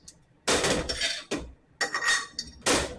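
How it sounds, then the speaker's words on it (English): A metal spacer is dropped onto the shaft of a 220-amp alternator for an OBS Chevy GMC truck. A few sharp metallic clinks and clatters come in separate bursts, close and alone. "Drop your new spacer on."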